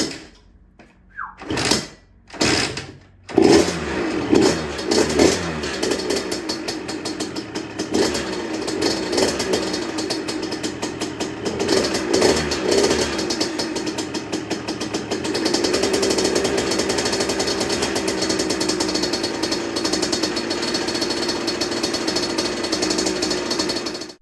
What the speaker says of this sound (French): On va donc pouvoir voir si la moto démarre correctement.